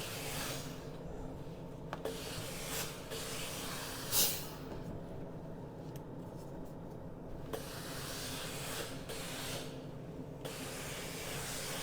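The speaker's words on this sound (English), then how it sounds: "Now that I have my strips sewn, I'm going to press them on the Laura Star." A Laura Star steam iron pressing freshly sewn quilt fabric strips gives off soft, intermittent bursts of steam hiss over a low, steady background rumble, with no voices.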